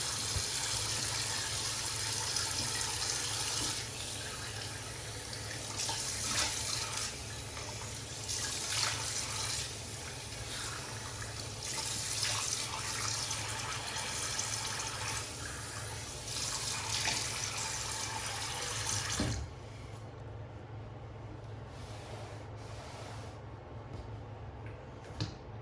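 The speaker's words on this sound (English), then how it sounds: "Clean up the brush, let's rinse off the face." A bathroom tap runs steadily while someone rinses their face at the sink after shaving, a close hiss of water with small splashes and taps, then the flow cuts off near the end, leaving a quieter room.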